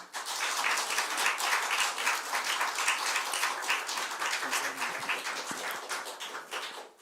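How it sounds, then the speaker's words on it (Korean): Sustained applause from a church congregation at a Friday evening service welcoming a pastor, dense steady clapping filling the room for several seconds before tapering off at the end. "우리 목사님을 사랑으로 박수로 환영하였습니다."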